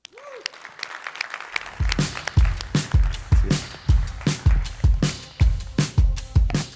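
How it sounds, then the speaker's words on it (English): Audience at a business talk applauding as a speaker is introduced, starting after a moment of quiet and building into steady rhythmic clapping with loud, regular surges. "give Andy Mulholland a big round of applause"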